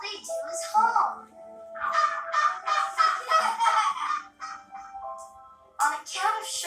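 Live geese honk repeatedly in loud, close bursts, a busy run of overlapping calls with a short pause before a final flurry.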